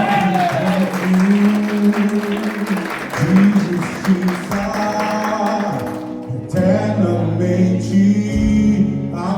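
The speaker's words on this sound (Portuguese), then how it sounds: "Aplauda ao Senhor." A church congregation applauds through a Christmas-season worship service, the clapping steady and fairly loud over sustained musical tones and chords that swell and shift throughout.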